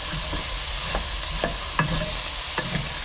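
Ground turkey and vegetables with mushrooms sizzling in an overcrowded pan, a steady close fry broken by several scraping stirs, with no voices.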